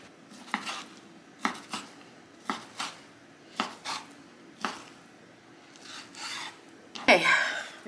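A knife dicing bacon on a cutting board, a series of sharp, evenly spaced chops close up, each followed by a brief rasp, with a louder scraping sweep near the end.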